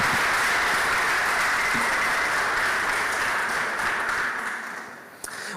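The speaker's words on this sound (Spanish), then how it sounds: "¿por qué les damos un aplauso a ellos?" A large audience applauds at a worship teaching session, a dense, sustained wash of clapping that gradually thins and fades toward the end.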